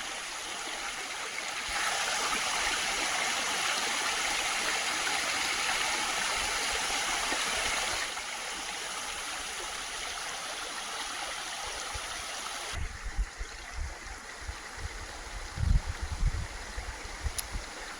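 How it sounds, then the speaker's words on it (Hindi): Mountain stream in Uttarakhand rushing steadily nearby, a broad, continuous wash of flowing water with shifting intensity and a few low thumps near the end. "ये देखो एक गधेरा आ रहा है पानी का"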